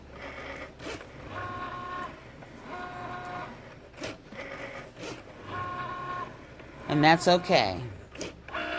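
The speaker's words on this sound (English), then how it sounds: "it is cutting our 2x2 circles for our price tags" Cricut machine cutting 2x2 circles for price tags, a rhythmic mechanical whir in repeating passes with short pauses and a sharper squeal near the end, under a person talking.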